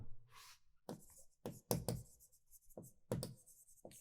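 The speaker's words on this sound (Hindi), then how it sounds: "ठीक है ना, लिख देता हूं" Chalk or marker strokes on a board during a biology lesson on muscles, a series of short scratchy bursts in irregular rhythm, fairly close and moderately loud, with no talking over them.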